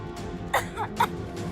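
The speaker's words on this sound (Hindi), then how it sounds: "आप खांस क्यों रहे हो?" A young girl coughing in a Hindi TV drama scene, two or three short, close coughs over faint background noise, with no talking.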